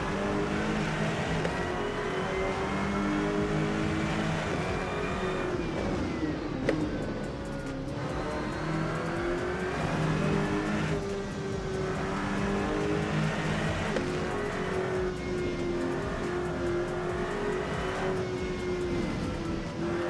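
Race car engine in the Rennsport racing game, continuous loud roar with repeated throttle blips and rising and falling revs through corners, with occasional tire squeal and short gear-change dips.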